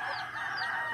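A pure yellow-legged hatch gamefowl chicken gives a short nearby call, a brief rising cluck-like vocalization lasting about a second.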